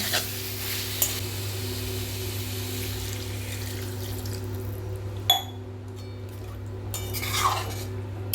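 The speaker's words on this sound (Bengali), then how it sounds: "এরপরে আমি জল ঢেলে দেব।" Water is poured into a pan of frying yam and potato curry, a short splash and brief hiss following a steady background of cooking noise and a few clinks of utensils.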